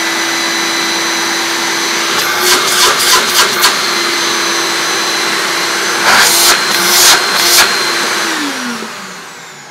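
A vintage Electrolux Z1863 Chic cylinder vacuum cleaner rated at 1300 watts runs loud and close with a steady motor whine, a few brief rises in airflow noise, then winds down toward the end, with no talking.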